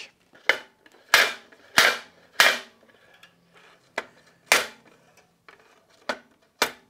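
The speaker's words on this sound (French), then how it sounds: "La garde, c'est du métal contre du métal." The metal guard of a Festool Kapex KSC 60 EB cordless miter saw knocks metal against metal in a series of sharp, close clacks at irregular intervals, about ten strikes with near silence between them.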